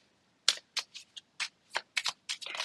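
Tarot cards shuffled and drawn by hand, a run of close, crisp papery riffles and slides in quick irregular bursts, ending in a busier flurry of shuffling, with no talking.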